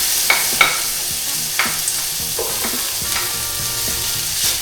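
Sliced onions hit hot cooking oil in a pan and crackle into a steady bright sizzle, with a few sharp pops and spatters near the start and an even hiss throughout.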